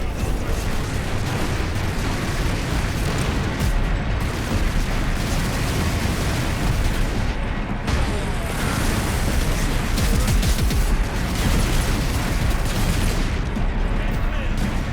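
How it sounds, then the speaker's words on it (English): Artillery fire and explosions roar continuously in the Warhammer 40,000 Space Marine Master Crafted Edition game, a loud, dense barrage with no pause and a brief dip midway. "Firing now. Incoming fire."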